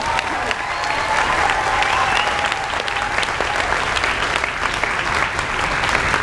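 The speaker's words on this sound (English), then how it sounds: "I think the percussion deserves another round of applause" A middle school spring concert audience applauds the wind ensemble's percussion section, a steady, dense wash of clapping holding at an even level throughout with a faint voice briefly audible beneath.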